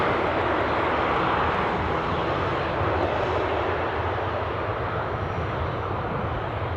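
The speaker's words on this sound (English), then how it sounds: "the ATR is moving" ATR turboprop aircraft taxiing at Newcastle airport, giving off a steady, fairly loud engine hum and rush that stays even throughout, unaccompanied by speech.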